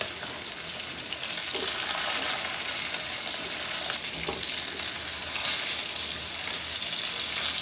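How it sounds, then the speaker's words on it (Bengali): Pomfret fish frying in oil in a pan, a dense continuous close sizzle with scattered pops and light stirring clatter, no voices over it. "মাছগুলো আমার ভাজা হয়ে গেছে আমি সব মাছ তুলে নেব"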